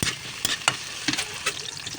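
Ground beef fries in a pan with bitter gourd, tomato and seasoning, a close, crackling sizzle cut by quick scraping stirs of a spatula, with no voice over it.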